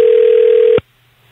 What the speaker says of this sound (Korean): 전화 연결을 얼른 해보도록 하겠습니다